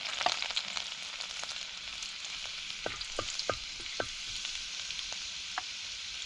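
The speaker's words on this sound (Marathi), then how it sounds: "तेल गरम झालं लसूण घालते" Garlic sizzles in hot oil in a home kitchen pan, with a steady bright frying hiss throughout and a few sharp crackles and pops, close and fairly quiet, with no talking.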